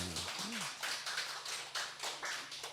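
A church congregation during Sunday worship gives a short round of clapping, a quiet series of rhythmic hand claps, fairly faint and slightly distant.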